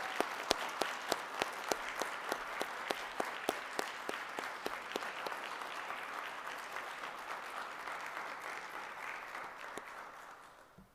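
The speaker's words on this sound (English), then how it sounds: "a round of applause for our new second lieutenants" An audience at a military commissioning ceremony for new second lieutenants claps steadily in a large hall, sharp individual claps standing out at first before the applause gradually fades away.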